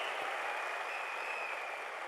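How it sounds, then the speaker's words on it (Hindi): Audience applause at a motivational business event in Delhi, a steady soft wash of many hands clapping, distant and fairly faint, with a thin tonal hum running through it. "जोरदार तालियों से आपका धन्यवाद करता हूं।"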